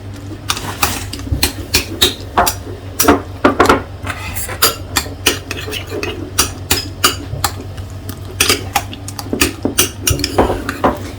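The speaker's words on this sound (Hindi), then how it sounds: "इनको अच्छी तरह से मिक्स करें।" Ingredients mixed in a bowl for cucumber ice cubes, loud close spoon clinks and clatters against the bowl in quick, irregular bursts over a low steady hum.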